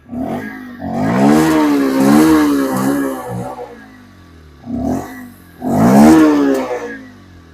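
A nearby 2025 Bajaj Pulsar 125 motorcycle engine revs repeatedly, rising and falling in pitch, pausing, then revving again with short and longer throttle bursts.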